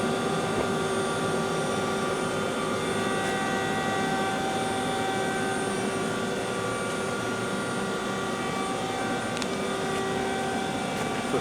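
A Mazak QTN 100 CNC lathe runs with its spindle spinning, giving a steady, even machine hum with several sustained tonal whines throughout and no talk.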